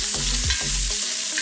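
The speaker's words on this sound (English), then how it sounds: "I don't know if you can hear this sizzling." Food sizzles loudly and close in a frying pan, a dense crackling hiss broken by a few low scrapes and stirring knocks.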